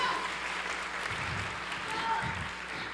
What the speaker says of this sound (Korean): 한번 박수 한번 해주세요.